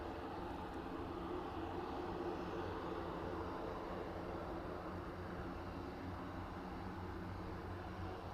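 Aircraft engine drone at East Midlands Airport, a steady, faint, distant rumble held throughout with no change in level and no talk.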